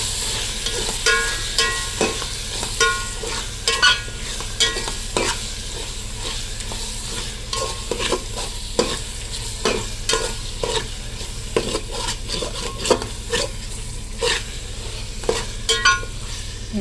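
About 350 grams of tomatoes sauté in a pan for an onion-free Ambur chicken biryani, giving a steady sizzle broken by repeated scraping and stirring strokes from a utensil, close up and without talk.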